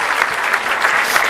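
Sustained applause from an audience at a port golden jubilee ceremony in a large hall, dense and steady clapping throughout without a break.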